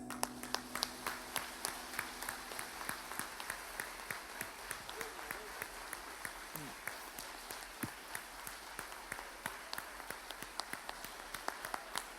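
A church congregation applauds in honour of women, dense clapping sustained across the whole stretch at moderate distance, with faint voices beneath.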